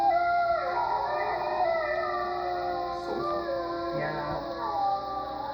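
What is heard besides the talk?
wolf howling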